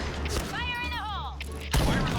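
A single sharp sniper rifle shot from the online shooter Point Blank bursts near the end, after a wavering tonal game sound over low background noise.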